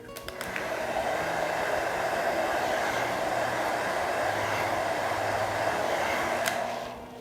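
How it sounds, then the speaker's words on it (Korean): A hair dryer set to low blows steadily while hair is styled around a round brush. The smooth, continuous whooshing hum runs nearly the whole time, close and even, with no talking. "그냥 이 상태에서 드라이기로 약한 바람으로 열 한 번 주시면 되시거든요."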